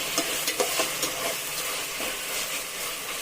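Onions and tomatoes sautéing in oil for a dried-fish curry, with a continuous close sizzle and hiss broken by the scrape and clack of stirring, with no voices.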